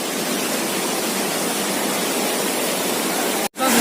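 Waterfall at Kampung Harapan, Sentani, Jayapura, roaring as a steady, loud, broadband rush of falling water close by, briefly cut off near the end.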